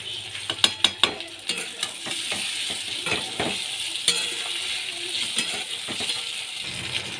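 A loud sizzle rises as chili powder hits hot oil in a pan of fish curry with katla fish and potatoes. Sharp clinks of a spoon against the pan punctuate steady frying, with no talking.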